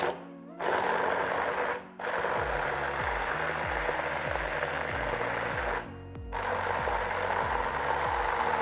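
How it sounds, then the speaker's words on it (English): A kitchen blender blitzes sticky date pudding mixture in a steady, loud mechanical whir, briefly stopping and restarting twice, with rhythmic low pulsing throughout. "we're going to give that a little blitz"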